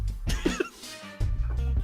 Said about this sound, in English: Vito's kind of coughing